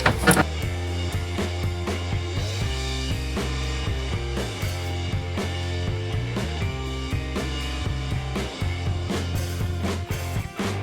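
An electric tool whirs in repeated short bursts while winding out cylinder head bolts on a Suzuki RF 1100 motorcycle engine, close and fairly quiet, with pauses and clicks between runs.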